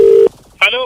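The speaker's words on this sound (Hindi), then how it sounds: "भाई अजीत ने फोन करके बउआ से कहा" A telephone prank call begins with a short, steady dialing tone on the line, then a voice starts speaking on the phone after a brief pause.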